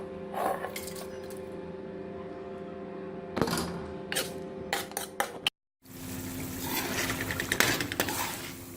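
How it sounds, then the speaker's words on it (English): Beef karahi is shifted into a wider pan, with metal clinks, scraping and sizzling clatter of cookware up close, a brief dropout midway, then renewed frying sizzle and utensil knocks. "So I'm gonna move this to a wider pan."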